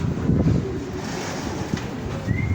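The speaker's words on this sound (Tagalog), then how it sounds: "Malakas ang hangin eh." Strong wind buffets the microphone outdoors in a steady, rumbling roar with gusty swells and no voices.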